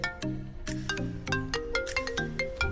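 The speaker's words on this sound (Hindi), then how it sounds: "किसका फोन है?" A melodic phone ringtone plays a repeating electronic tune of short bright notes in a steady rhythm, clear and close, with no talking over it.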